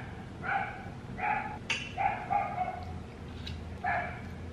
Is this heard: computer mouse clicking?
no